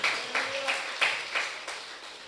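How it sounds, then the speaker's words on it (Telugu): An audience claps together in a steady rhythm, about six or seven firm beats spaced evenly over two seconds, with a voice speaking over it. "కొట్టు చప్పట్లు గట్టిగా."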